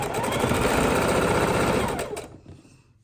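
Sewing machine chain-piecing pinwheel quilt blocks, a loud rapid close stitching rattle that runs for about two seconds, then stops abruptly.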